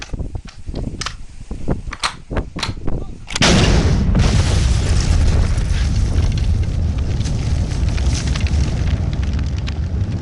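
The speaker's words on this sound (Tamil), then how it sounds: "அங்க போதா யாரோ என்ன வந்து ராக்கெட் லான்ச்சர் வச்சு அடிக்கிறாங்க" A rocket launcher explosion hitting a haystack near Pollachi: several sharp bangs and crackles, then a sudden heavy blast at about three seconds gives way to a loud, sustained rumbling roar like burning straw.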